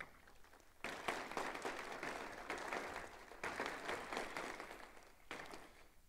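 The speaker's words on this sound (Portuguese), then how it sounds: "Uma salva de palmas aos homenageados." Audience applause for honorees at a solemn legislative session in Goiás, quiet and distant, rising and falling in several waves.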